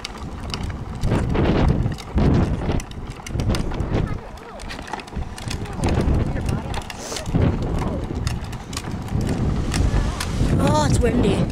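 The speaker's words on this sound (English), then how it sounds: "Oh, it's windy." Wind gusts buffet the microphone in heavy, uneven rumbling bursts on an outdoor walk with a dog named Murphy as rain approaches, with brief voices heard under the noise.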